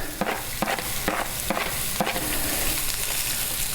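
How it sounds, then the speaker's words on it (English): Thinly sliced onions sizzling in oil as they caramelize, with a dense steady hiss and a few rhythmic scraping strokes of stirring near the pan. "I thinly sliced it, and I think there's still enough oil in there that'll be fine. I'm going to go ahead and caramelize these"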